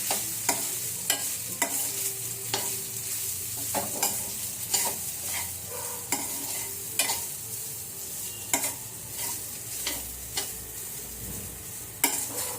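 Food being stirred and mixed in a frying pan, with rhythmic spatula scrapes and taps repeating every second or so over a soft, steady sizzle.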